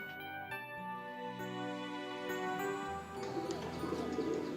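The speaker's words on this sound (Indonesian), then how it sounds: "Ini sebenarnya burung siapa sih, Yuk?" A pigeon coos faintly in the background, with soft repeated calls partly buried under sustained music tones.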